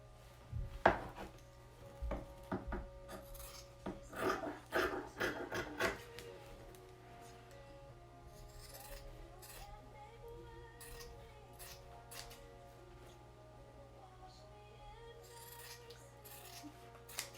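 Scissors snipping the fabric seam allowance of a child's face mask, a cluster of crisp close cuts and rustles early on, then quieter fabric handling and faint scrapes.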